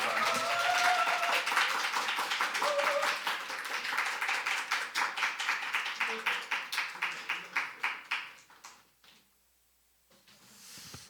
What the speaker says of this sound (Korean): 우리 열렬히 박수하면서 환영하도록 하겠습니다.